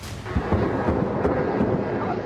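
A deep, rolling boom of an explosion at the Ufa oil refinery at night rumbles on for a couple of seconds, like a distant blast echoing, with a few heavier thuds inside it.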